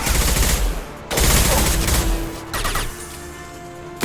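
Weapon fire from an impact shot in the video game Mass Effect 2 (Legendary Edition) comes in loud, rapid bursts, with two heavy volleys and a shorter third followed by a fading ringing tail.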